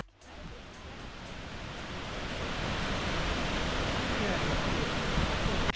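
Cascades in Laos pour down over rocks, a steady broad roar of rushing water heard close and loud, with no voices and only a slight swell in strength.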